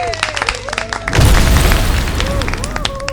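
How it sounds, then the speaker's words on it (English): A thunderous explosion tearing through the side of a tent at a freakshow celebration, a sudden heavy deep boom that rolls into a long loud rumble under a dramatised scene with a raised voice and crowd noise. "The cheer was cut short by a thunderous explosion."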